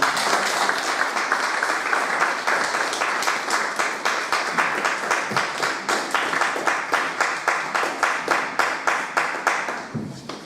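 A church congregation claps in steady rhythmic unison during worship, loud and close, the sharp beats continuing evenly for about ten seconds before tapering off.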